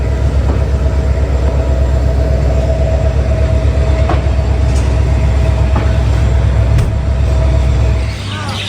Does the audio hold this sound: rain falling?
no